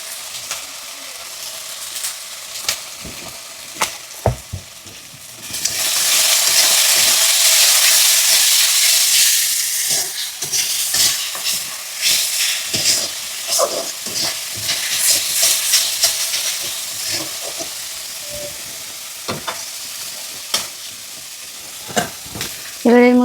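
Ground spices fry in a pan of oil for katla fish curry, a loud sizzling hiss that swells partway through and keeps going under frequent scraping and clinking of a stirring spoon.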